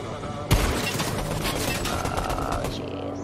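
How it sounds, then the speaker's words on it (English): Rapid gunfire in a video game, a dense loud burst of shots starting abruptly and continuing as a sustained volley. "Oh, we're getting shot at."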